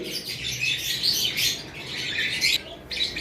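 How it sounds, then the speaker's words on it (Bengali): Pet cockatiels and budgerigars at a bird seller chirp close by in a busy, continuous chatter of high tweets and short squawks, with no talking. "দেখতে পাচ্ছেন খুব সুন্দর পাখিগুলো একটু ময়লা হয়ে গেছে"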